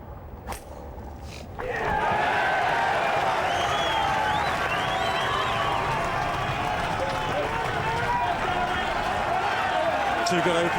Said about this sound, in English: I'm just wondering how this crowd is going to keep up this cheering and actually go home with their voices